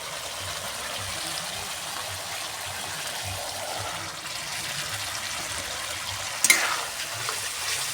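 Kidney beans hit hot oil in a pan and fry with a steady sizzle, while a spoon stirs and scrapes through them. A sharp clatter comes near the end.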